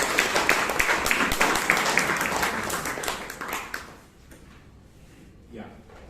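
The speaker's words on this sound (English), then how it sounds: "Give a big round of applause." Applause from the audience at a Toastmasters club meeting in Bangalore, a steady round of clapping for about four seconds that quickly dies away into quiet room sound.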